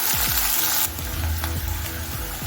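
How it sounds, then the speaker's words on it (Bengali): Two medium chopped onions fry in hot oil in a pan for mutton fat khichuri, making a loud, dense, steady sizzle broken by a few scraping stirs, with no voices. "পেঁয়াজটা লাল করে ভেজে নেব।"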